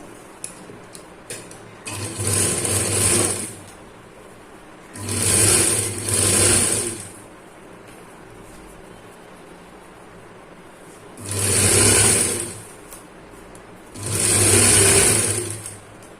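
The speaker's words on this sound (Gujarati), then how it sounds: "અહીંથી આપણે સિલાઈ લગાવવાની છે" A sewing machine stitching a child's dhoti salwar, running in four separate bursts of a couple of seconds each with quiet pauses between, a close, whirring mechanical hum.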